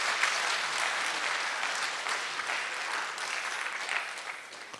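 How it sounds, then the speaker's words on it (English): Sustained audience applause for three panelists at the Alberta Economic Summit, a dense broad wash of clapping from a large crowd that holds steady and tapers slightly near the end, with no talking over it. "Let's give them a round of applause."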